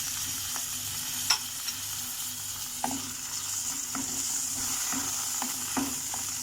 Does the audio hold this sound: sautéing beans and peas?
yes